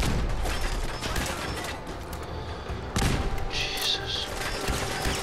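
Explosions from grenades and bursts of gunfire in the Fallout 4 video game, a dense, continuous barrage of booms and shots with a voice briefly exclaiming over it.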